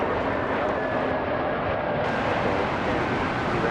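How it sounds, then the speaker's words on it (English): A United Airlines Airbus A321-200 arriving at Las Vegas from Chicago O'Hare, a steady broadband jet roar, loud and continuous throughout, with no voices. "That's an Airbus 321-200"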